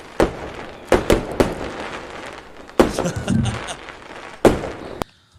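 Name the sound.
fireworks being set off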